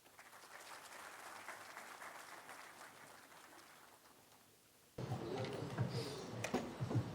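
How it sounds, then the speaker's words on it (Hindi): An audience at an anti-drug Raksha Bandhan event in New Delhi applauds softly in a steady distant wash to welcome a performance group, then it cuts abruptly to louder, closer room sound with a voice. "तो अब तालियों से स्वागत करें जागरण ग्रुप का।"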